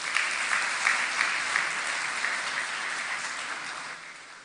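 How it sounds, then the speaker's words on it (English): Applause from a conference audience in Goa greets a speaker after an introduction, a dense, steady wash of many hands clapping that holds strong before tapering slightly toward the end. "Ladies and gentlemen, a big round of applause,"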